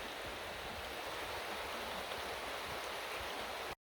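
The Rio Grande flowing over rocks in Boquillas Canyon, Big Bend National Park, a steady, full rushing wash of water that holds constant and fairly near before stopping abruptly.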